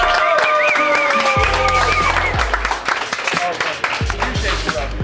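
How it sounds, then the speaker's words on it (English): Customers in a taco restaurant applauding, scattered claps and cheering mixed with loud background music and bass thumps, under lively crowd noise. "Let's give him a round of applause."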